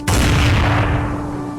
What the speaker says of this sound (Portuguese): Sem hesitar, Coutinho ergueu sua espingarda, apontou diretamente para o cigano e puxou o gatilho.